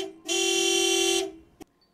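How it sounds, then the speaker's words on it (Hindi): A car horn sounds once, a steady, fairly loud honk of about a second, followed by a brief click and then quiet, with no talking. "ये तो बाबा की गाड़ी का हॉर्न है।"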